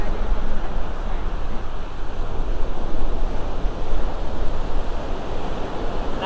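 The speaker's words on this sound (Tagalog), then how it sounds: "Yung alon ay malakas." Strong ocean waves break and wash onto a sandy beach, a loud continuous roar of surf with rising and falling swells and some wind buffeting the microphone.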